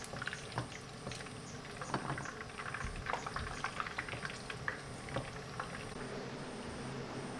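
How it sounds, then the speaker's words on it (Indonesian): Chicken wings cooking in a black non-stick pan, a steady bubbling sizzle with scattered pops and crackles, moderately close and continuous with no talking. "kita masak sayap ayamnya sampai matang ya"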